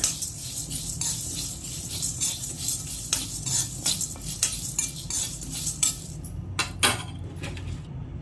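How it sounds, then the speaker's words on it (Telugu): Curry leaves dry roasting in a pan along with cumin, with a faint low crackle under repeated metallic scrapes and clinks of a spoon stirring against the pan, and no talking. "ఇప్పుడైతే కరివేపాకు కూడా వేసుకుంటున్నానండి. అంతా డ్రై రోస్ట్ చేసుకోవాలండి."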